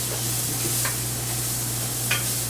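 Steady sizzling in a hot pan as a little lime juice is squeezed into couscous, a continuous close hiss with a faint low hum and a couple of small spattering pops.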